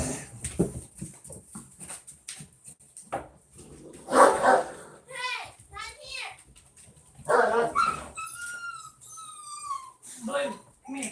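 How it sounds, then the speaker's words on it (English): A small dog yips, barks and whimpers outdoors, several sharp barks in bursts followed by high, drawn-out whines, with a person talking between them. "Now let me get my little dog."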